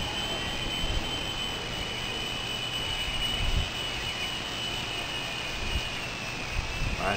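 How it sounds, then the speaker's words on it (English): An E-Flite Blade micro RC helicopter flies outdoors on a windy day, giving a steady high-pitched motor whine over a continuous rumble of wind buffeting. "I'm flying this helicopter with a 150 milliamp hour battery, a brand new battery."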